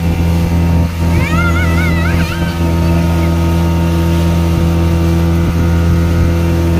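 A motorboat on the Malampuzha dam reservoir in Palakkad, Kerala, gives a steady, close engine drone with a low hum throughout. A voice rises briefly over it early on.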